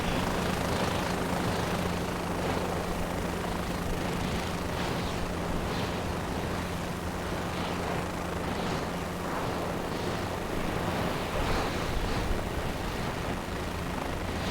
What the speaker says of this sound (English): our helicopter is currently taxiing to position for the upcoming takeoff